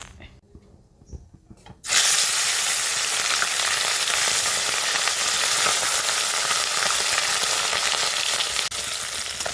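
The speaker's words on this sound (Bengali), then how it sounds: "তেলটা গরম হলে মাছগুলো আমি ভেজে নেব" Fish hit hot mustard oil in a kadai with a sudden loud sizzle after a quiet moment, then a steady, bright crackling fry continues close up to the end, with no talking.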